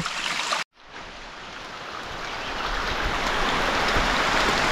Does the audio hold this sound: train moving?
no